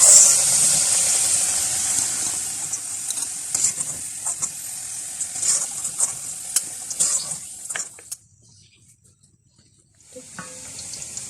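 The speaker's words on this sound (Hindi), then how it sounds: "आलू बहुत अच्छी तरह से इसके अंदर डीप फ्राई हो गए हैं।" Potatoes deep frying in hot oil for a chicken Bombay biryani give a steady, close hiss dotted with scraping stir clicks. The sound drops to near silence for a couple of seconds, then the sizzle resumes.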